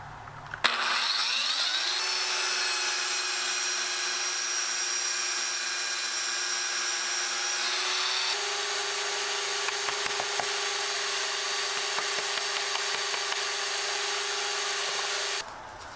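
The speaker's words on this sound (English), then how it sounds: "I'm just going to use a belt sander." Belt sander running steadily on a router table top, a loud, close, sustained motor whine that shifts pitch partway through as pressure on the wood changes.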